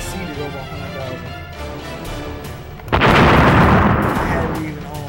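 A tank fires in the Toss the Turtle video game, a loud, close burst of booming explosions that erupts suddenly after steady game noise and sustains before slowly fading, with talk alongside.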